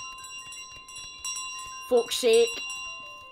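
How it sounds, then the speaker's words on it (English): A bell rings in Untitled Goose Game, a bright ringing tone that sounds a couple of times while a person talks over it. "You're ringing your bell."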